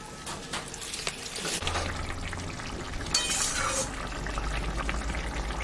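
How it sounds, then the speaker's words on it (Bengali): Water poured in a small splash into a prawn and fig curry in a home kitchen, a soft brief liquid trickle with faint clinks, no talk. "আমি সামান্য একটু জল দিব"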